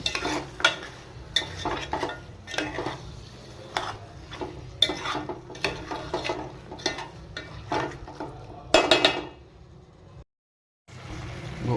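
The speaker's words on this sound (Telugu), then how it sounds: "మటన్ వేసిన తర్వాత ఒకసారి కలబెట్టుకోవాలి. ఇలా మొత్తం తిప్పుకుంటే ఇంత కలుస్తుందండి." Mutton curry being stirred in a pot, a spoon scraping and knocking against the metal in an irregular run of strokes over a faint sizzle, close, with a brief silent gap near the end and no talking.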